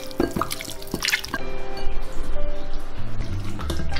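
Chicken legs being stirred in a marinade of salt-baked chicken powder and oyster sauce, giving wet, dripping, squelchy mixing sounds close up, with a few sharper clinks early on and no talking.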